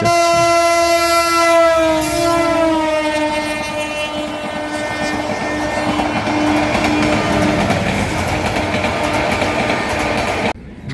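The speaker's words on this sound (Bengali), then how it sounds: "ওভারব্রিজ থেকে নামতে দেখি Dhaka Chittagong non stop train একটি" The Dhaka–Chittagong non-stop train passing Feni junction station in Bangladesh: a loud, close horn blast at the start, then the steady rumble and clatter of carriages rolling by at speed.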